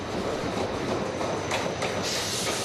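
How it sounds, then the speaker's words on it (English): A French local passenger train near Bagnères-de-Luchon rumbles past nearby with a steady roar and faint rhythmic wheel clatter, no voices, holding at an even loudness. "here is what I take to be one of the sort of standard local trains."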